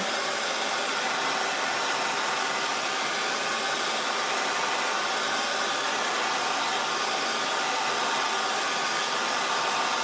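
A hair dryer blows a steady, loud, unbroken rush of air close by for the whole stretch as it dries a fresh coat of finish on custom woodwork.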